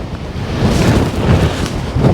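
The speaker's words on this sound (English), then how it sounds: "It's very windy." Strong wind on top of Gullane Hill near Aberlady Bay, Scotland, roars and buffets the microphone continuously, a loud broadband rumble that surges and eases without pause.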